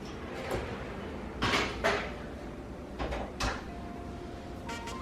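Tray of red velvet cupcakes slid into an oven at 325°F, with a few short knocks and clatters of metal and a door being shut, fairly close, with no talking.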